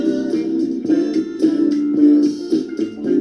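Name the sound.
A song playing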